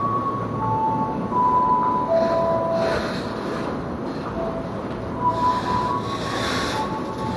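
An electric commuter train bound for Depok rumbles at Tanah Abang station, a steady rolling drone with brief high metallic whining tones drifting in and out, heard alone without talk.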